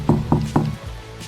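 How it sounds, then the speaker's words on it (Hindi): Three loud, evenly spaced knocks on a wooden door in a horror story, each a sharp thud about a quarter second apart, followed by quiet. "तभी अचानक दरवाजे पर किसी ने जोर से खटखटाया"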